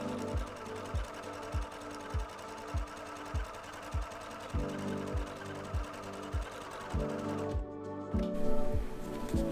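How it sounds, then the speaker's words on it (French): A sewing machine stitches a tight zigzag seam around a small fish appliqué on a baby bath cape, running in steady rhythmic pulses close up, with a short louder whir near the end. "on va faire une couture au point zigzag serré tout autour"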